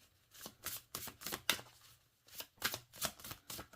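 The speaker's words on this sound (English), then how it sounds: "Okay, let's shuffle it up." Oracle cards being shuffled by hand, soft papery riffling and slapping in quick bursts with short pauses between, close and quiet.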